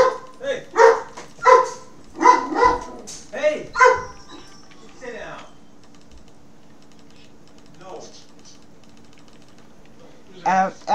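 A pet dog barks in a rapid run of loud, close barks for several seconds. Near-quiet follows with one faint bark, then the barking resumes near the end.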